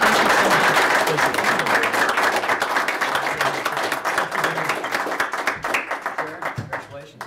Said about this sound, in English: And now we'll give you an applause.